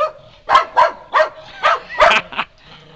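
A dog barks in the snow at something it thinks is out there, with six short, loud barks in an uneven rhythm, close by and alone with no talk.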